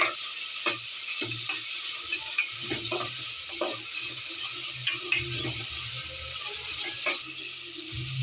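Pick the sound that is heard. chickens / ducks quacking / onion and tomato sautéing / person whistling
onion and tomato sautéing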